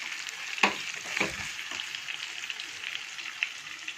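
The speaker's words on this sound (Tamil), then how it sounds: "தேங்காய் போட்டு கொஞ்சம் வதக்கணும்" Grated coconut with coriander and mint sautéed in a pan for chicken kuruma, a steady soft sizzle with a couple of sharp spoon scrapes and stirs, close and moderately quiet, without speech.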